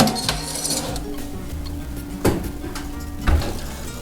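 A metal sheet pan of beef fajitas slid into a hot oven, with clattering metal and a couple of sharp knocks as the pan and rack shift, close by and without talk.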